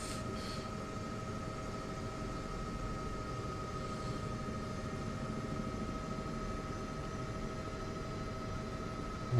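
A Chinook helicopter's engines in Microsoft Flight Simulator 2024 make a continuous droning rumble with a steady tonal whine, even and fairly quiet from start to finish with no voices.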